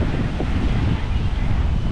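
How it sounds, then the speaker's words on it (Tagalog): Strong sea waves break on a beach under gusting wind, with light rain in the air. A dense, continuous roar of surf and wind buffets the microphone throughout. "napakalakas pa rin ng dagat"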